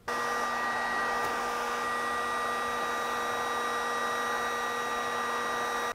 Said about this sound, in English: one other technique you can use if your surface has this little foily plastic fibers is to use a heat gun